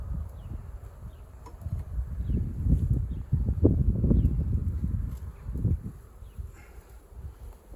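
Honeybees swarm and hum around an open hive during a spring inspection, a steady low drone with rustling and handling noises rising and falling, no voices heard.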